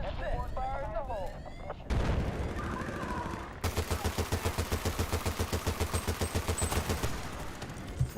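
Heavy machine gun fire in Battlefield Bad Company 2: after a few mixed blasts and noises, a long, loud run of rapid, evenly spaced shots hammers on for several seconds.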